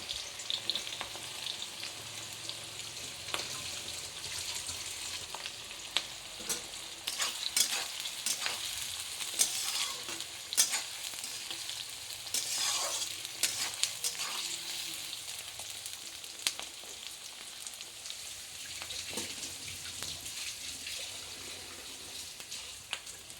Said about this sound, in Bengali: পেঁয়াজগুলো আমি লাল লাল করে এক এক করে সব ভেজে নেবো